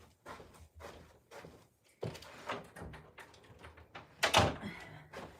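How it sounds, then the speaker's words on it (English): A door in a home swings shut with a few thuds and knocks, one sharper and louder near the end, heard up close in a quiet indoor room. "I shut the door though because I want some privacy to talk to you guys."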